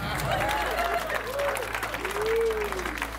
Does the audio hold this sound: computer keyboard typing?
no